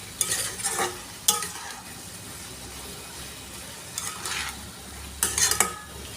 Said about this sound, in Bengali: আমি এই জলটাতে একটু ভালো করে কষিয়ে নেব।